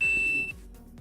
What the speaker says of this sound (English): I'm sorry about the alarm.